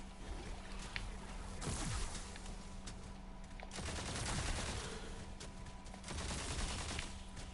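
Gunfire from the fantasy shooter game Tiny Tina's Wonderlands, dense rapid bursts of shots in three loud waves with brief lulls between them, no talk.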